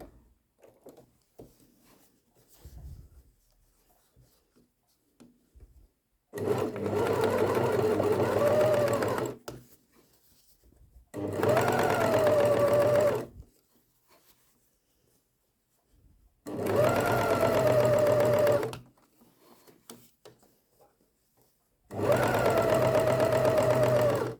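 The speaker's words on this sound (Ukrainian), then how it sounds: "Ось я проклала вже плоский шов з рукава." A sewing machine stitching a flat seam along the hem of a knitted garment, running in four steady buzzing bursts of a few seconds each, separated by quiet pauses.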